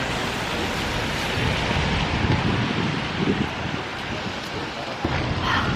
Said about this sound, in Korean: 파도가 확실히 크다. 와, 파도 봐.